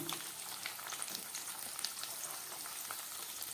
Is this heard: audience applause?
no